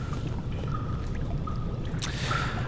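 Water drips and trickles steadily inside a cistern in the horror game Amnesia, a continuous wet ambience with occasional brighter drip tones over a low rumble.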